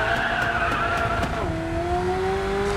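Tires of an Alfa Romeo 4C squeal in a long skid through a corner in the Racing Master video game, the sustained screech over the car's engine note, with a tonal shift partway through.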